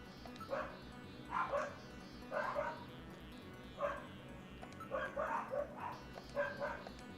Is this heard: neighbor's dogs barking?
yes